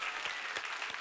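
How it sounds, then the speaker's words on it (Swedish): Audience applause at a Swedish programmatic advertising industry event, a dense, steady burst of many hands clapping for about a second with no voices on top. "Ta en applåd till!"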